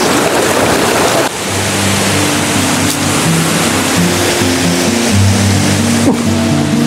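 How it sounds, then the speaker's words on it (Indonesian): Dirty, fast-flowing water rushing near an old Dutch-era dam: a loud, dense, unbroken roar of churning water close by, with a low engine-like hum running underneath throughout. "Airnya kotor, nggak jernih tapi deras."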